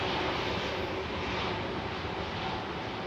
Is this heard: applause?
no